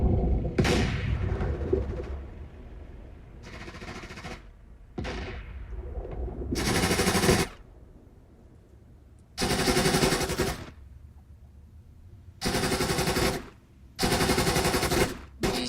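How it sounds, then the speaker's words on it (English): Mortar fire in the combat flight sim DCS, with the red and blue sides both firing: several loud, booming bursts come in separate clusters with short quiet gaps between them, and no voices. "There's the red mortar firing off."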